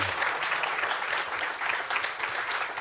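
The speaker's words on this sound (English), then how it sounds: "let's have a round of applause for our speakers and for Kaylee, our moderator" Audience members at a civic education debate give a brisk, steady round of applause for the speakers and moderator, a continuous wash of clapping at moderate loudness.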